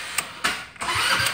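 A go-kart engine cold start: the starter cranks in rough bursts, sputtering and catching before breaking into a loud, harsh running roar close by, with no talking.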